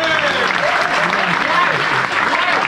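Crowd applause at a drum show concert, steady dense clapping lasting a few seconds, with faint voices and tonal sound mixed in underneath.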